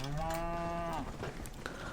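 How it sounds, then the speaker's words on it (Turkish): An ox mount summoned in Albion Online lets out a single long, low moo lasting about a second. The call is loud and close, then drops into a quieter background bed. "Çağırıyorum eşeği. Eşek diyorum ya hala. Öküz ya."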